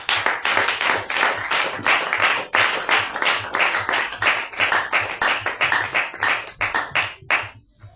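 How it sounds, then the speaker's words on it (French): A congregation at a Purim prophetic gathering claps in a loud, rhythmic unison beat, with a crowd wash beneath each strike, sustained for several seconds before thinning out and stopping near the end. "j'invite le prophète Joseph pour son allocution prophétique sous vos acclamations, s'il vous plaît."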